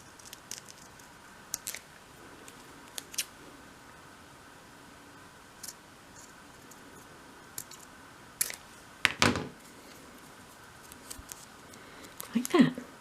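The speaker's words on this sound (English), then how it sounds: "use your scissors or your knife just to trim around." Scissors trim around a folded miniature doll's house magazine cover in a quiet room, giving scattered, soft snips and small crisp paper cuts, close and faint, with a few sharper rustles near the end.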